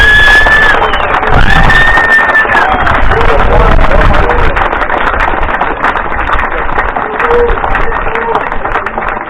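Applause from an audience at a charity cheque presentation, sustained dense clapping with scattered cheers holding steady for several seconds before easing slightly.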